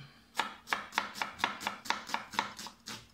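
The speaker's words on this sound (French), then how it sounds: "Allez, j'achève de couper." A knife chops through onion on a cutting board in about ten evenly spaced, crisp strokes, steady and close, with no talking.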